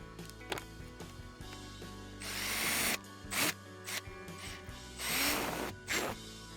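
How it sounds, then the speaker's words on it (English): A power drill with a sharp bit bores through the spot welds on a nicad battery pack in several short, harsh bursts of whining grind, separated by quieter pauses and faint mechanical clicks, close and fairly loud. "We're going to carefully drill through the spot welds."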